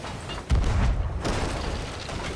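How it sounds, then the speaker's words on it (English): Ship cannon fire in the Sea of Thieves pirate video game: one deep boom lands at about half a second, and a low rumbling tail trails off behind it. "Cannon left, right now, right now."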